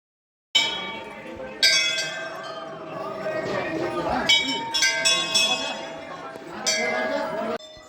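Temple bells ring out in the Santala Devi temple, several struck one after another with bright metallic clangs and long shimmering decays that overlap as visitors keep ringing them.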